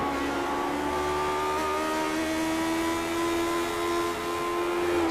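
A Lotus 79 Formula One race car of around 500 horsepower, heard onboard during a retro series race at Fuji, holds a loud steady engine drone with strong harmonic whine throughout.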